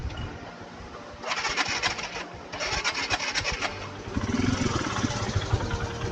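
A motorcycle with a failed piston is cranked repeatedly without catching, giving bursts of harsh grinding, rasping turnover separated by short pauses, close and loud.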